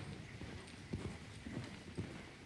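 Clip-clop of a horse's hooves in the Bibi & Tina video game, a steady, faint trot of evenly spaced hoof beats over a soft background hum.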